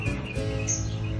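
A bird sings outdoors in a garden where snake plants are being potted, giving repeated bright chirps and short warbling notes over a steady low background rumble.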